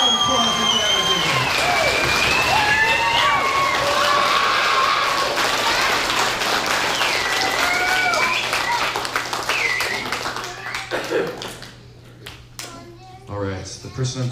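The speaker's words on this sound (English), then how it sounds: "Let's give the biggest round of applause that you've ever given." An audience claps and cheers at a hypnotist's live show, sustained loud applause with whoops and chatter that thins out toward the end, with a voice briefly speaking.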